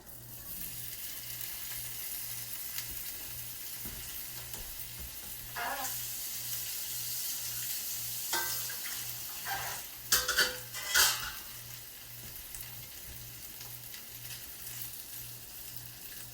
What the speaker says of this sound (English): I'm gonna start browning the potatoes. All I have is butter.